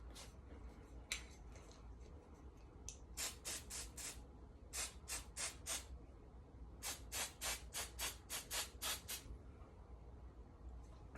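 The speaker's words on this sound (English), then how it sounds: "I'm taking my holding spray." Hair holding spray is spritzed in quick bursts during a high taper fade haircut, with a few scattered sprays followed by a rapid run of about a dozen short, sharp hisses close by.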